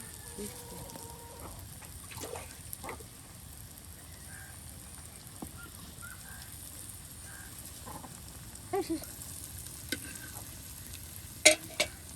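Egg pitha batter of ground rice and egg, drizzled by hand into hot oil, frying with a steady soft sizzle and bubbling throughout, broken by a few faint clinks and a sharper tap near the end.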